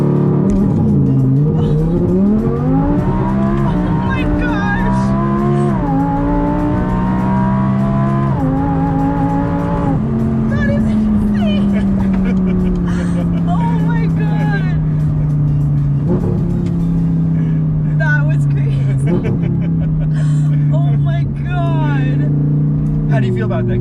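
Audi R8 V10 in sport mode with traction control off doing a launch-control start, engine note climbing steadily through hard acceleration and upshifts, loud and close from inside the cabin for about twenty seconds, with people talking over it.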